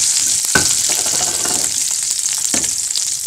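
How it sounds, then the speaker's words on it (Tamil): Curry leaves and dried red chillies sauté in hot oil with ginger and garlic for buttermilk curry, giving a loud, steady, close sizzle with two distinct scraping stirs and no talking. "இப்போ கருவேப்பிலை போட்டு வதக்குறோம்."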